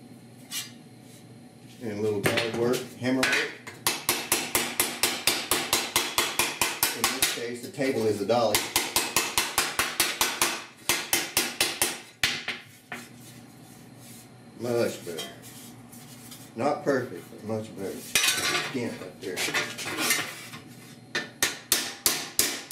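Pliers work the metal edge of a 1978 Ford F150 disc brake duct in bursts of rapid, tinny clicking and tapping, near and crisp, with someone talking between and over the bursts.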